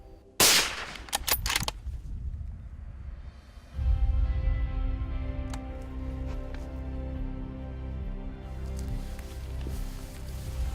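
A single sharp rifle shot fired at a roebuck during a deer stalk in Cornwall, loud and close, followed by a couple of fainter cracks and rustling, then quieter outdoor ambience with a low rumble.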